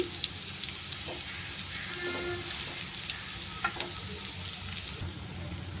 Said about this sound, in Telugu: లో ఫ్లేమ్లో పెట్టుకొని నిదానంగా ఇలా ఫ్రై అయ్యేటట్లు చూసుకోవాలి